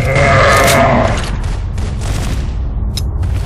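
In the CrossFire game, a flash grenade bursts with a loud blast that fades over about a second, and short, sharp gunfire cracks follow in a fast, broken rhythm.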